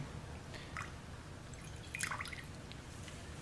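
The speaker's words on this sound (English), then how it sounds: "I'm pouring off the supernatant." Liquid supernatant is poured off a pelleted bacterial culture in a centrifuge tube, giving faint, brief dribbling and dripping splashes against a quiet background hum.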